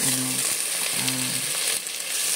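Ground pork sizzles in a hot pan with sautéed onion for ginisang upo, a bright steady frying hiss close by, with two short low hums and light scraping as the meat is stirred.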